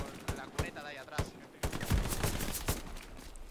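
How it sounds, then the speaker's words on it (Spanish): Semi-automatic rifle fire in a Hell Let Loose night defence battle: a series of sharp, irregular shots, several loud and close, with a constant hum of battlefield noise between them. "Disparos de semiautomáticas."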